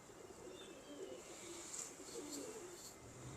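Pigeons kept by a hobbyist coo softly in a low, rounded murmur, a steady close-range cooing with faint background noise and no talk.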